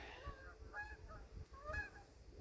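Distant geese honk in a loose series of calls, faint against low wind noise.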